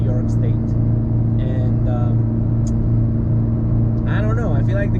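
A Subaru BRZ drives along, its cabin filled with a loud, steady low engine and road drone, while people talk over it.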